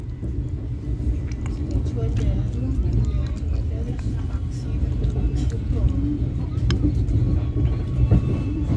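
Interior of a crowded Pasundan economy passenger train pulling out of Mojokerto station, a steady low rumble and rolling rail noise with faint clanks, under a busy murmur of passenger voices.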